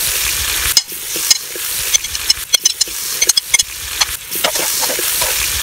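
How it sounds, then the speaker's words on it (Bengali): Chopped onions hit plenty of hot oil in a heated frying pan, giving a steady loud sizzle with scattered crackles and pops throughout, close up and without talk. "ফ্রাইং প্যানটা গরম হয়ে গিয়েছে, আমি তেল দিয়ে নিব, অনেকটা তেল লাগবে। এখন দিয়ে নিব পেঁয়াজ কুচিগুলো"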